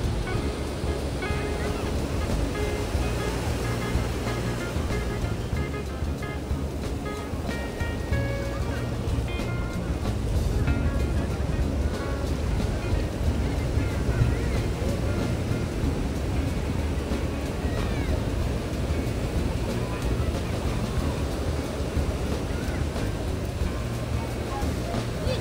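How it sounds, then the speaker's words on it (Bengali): Ocean waves roll onto a beach in the evening, a steady broad wash of surf mixed with wind buffeting the microphone, continuing throughout with no clear break. "আর এখন আমরা সন্ধেবেলা চলে এসেছি বিচের"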